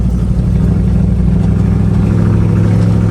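A square-body truck rolls along a bumpy dirt road, its engine droning low and loud inside the cab with a steady, unbroken rumble and no one talking.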